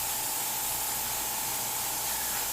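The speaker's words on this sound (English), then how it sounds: "see how I can spray it?" Airbrush spraying paint over pencil lines in an illustration, a steady close hiss of air and paint with no pauses, alone and without talk.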